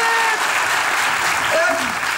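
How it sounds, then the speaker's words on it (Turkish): Dense, steady clapping from a classroom group fills the whole stretch at full strength, with a few faint voices and whistle-like tones showing through it. "Alkış. Alkış."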